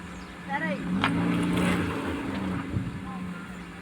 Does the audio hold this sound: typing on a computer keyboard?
no